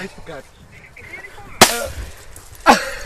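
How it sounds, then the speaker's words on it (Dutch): Two sharp booming bangs about a second apart, like cannon shots at a distance, with faint voices talking around them. "ik hoor al een kanon afgaan"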